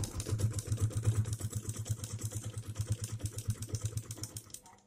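A sewing machine, turned by its wheel, stitches through cloth with a quiet, even chugging rhythm of soft repeated thumps that holds steady and then fades out at the end, with no talk.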